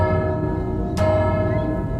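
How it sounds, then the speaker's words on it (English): A processed bell effect for the Sea of Thieves game, blended from several bell recordings including a large wok struck with a metal pie tin, rings with a dense sustained tone and one bright strike near the middle of the clip. "I actually mixed and blended different bell sounds"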